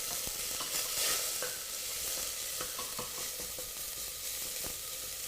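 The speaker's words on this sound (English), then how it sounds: "Good amount of oil to sear your paste. And then your paste goes straight in." Thai green curry paste sears in a good amount of hot oil for a vegan curry, giving a steady close sizzle with occasional scraping stirs and no voices.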